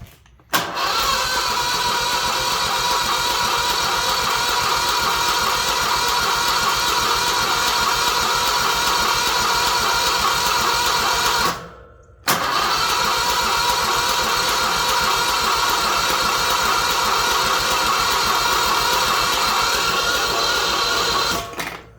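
A Scag Turf Tiger zero-turn mower engine cranks over with the choke on, giving a loud, steady whirring drone for about eleven seconds. It pauses briefly, then cranks again for another ten seconds without catching.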